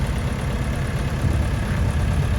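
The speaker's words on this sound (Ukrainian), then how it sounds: "Трактор вже готовий. Подивіться, стартуємо." A DTZ 5404 K mini tractor engine starts and rumbles steadily at close range with a low, chugging vibration, settling into an idle without any speech.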